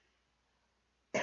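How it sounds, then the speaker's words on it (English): Near silence, then one short, loud cough bursts out right at the end. "I have this awful cough that just came out of nowhere"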